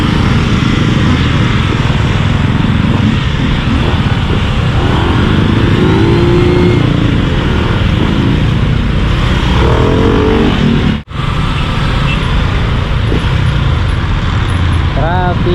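Road traffic with cars and motorcycles in hot weather in Tagaytay, a continuous loud roar of passing engines with a brief dropout near the end, a voice speaking over the din.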